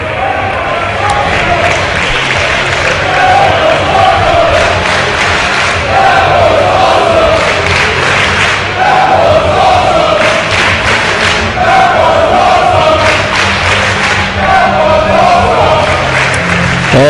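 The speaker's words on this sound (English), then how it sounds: "the crowd here at the McAlister Auditorium are telling the story." Wrestling crowd at McAlister Auditorium roars steadily throughout, a dense loud wash of cheering and shouting that surges in repeated waves, with thumps mixed in after a six-athlete opening match at a Dragon Gate USA show.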